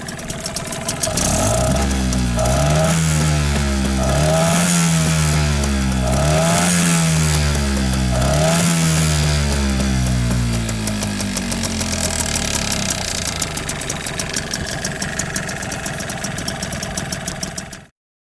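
A Tohatsu 5 outboard boat motor idles loudly and close, a rough throbbing engine note with pitch wavering in cycles, then settling into a steadier run before cutting off abruptly at the end.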